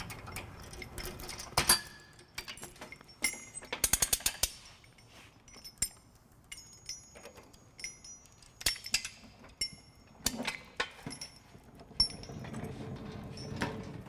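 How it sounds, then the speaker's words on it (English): A torque wrench with a 19mm socket tightens trailer hitch bolts on a 2008 Scion xB, giving a close, irregular series of sharp metallic ratcheting clicks and clinks with quiet pauses between. "we have our torque wrench here with our 19mm socket, and we're just going to go ahead and torque all 6 bolts down"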